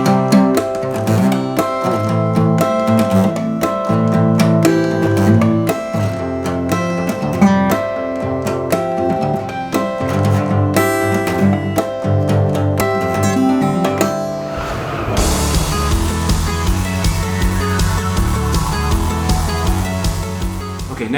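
Layered guitars play the full chorus of a tutorial song, loud and dense. A bright, fuller section takes over near the end, with no talking.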